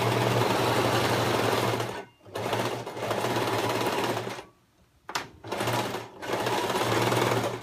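Sewing machine stitching elastic onto the wrong side of underpants, a loud close motor hum with a rapid needle rhythm, stopping twice briefly and starting again after a short back stitch.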